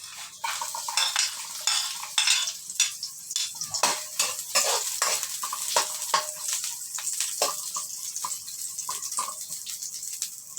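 Onion sautéing in a pan for a pechay with sardines dish, with a steady soft sizzle under repeated scraping and stirring clatter of a utensil against the pan, close and fairly loud, no talking.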